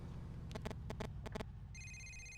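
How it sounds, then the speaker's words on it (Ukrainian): A phone rings in the video game GTA IV: several quick electronic trill bursts in a rhythmic pattern, then a steady higher chime. It is fairly quiet, over low game background hum, with no talking. "Хто це Роман дзвонить? Давайте візьмемо трубочку."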